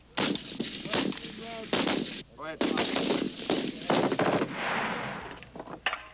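Pistols fire on a Marine Corps firing range, several sharp, loud close shots in an irregular string, with a man giving range commands between them.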